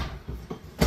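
A kitchen drawer or cupboard in a 2024 Gulfstream Ameri-Lite Ultra Lite 275FBG travel trailer is opened or shut, a brief loud knock near the end after faint rustling.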